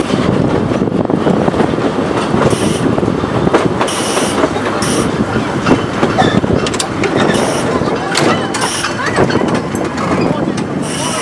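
A train on the Minami Alps Abt Line rumbles and clatters close by as it arrives at a station, with sharp metallic squeals from the wheels and voices heard faintly under the noise.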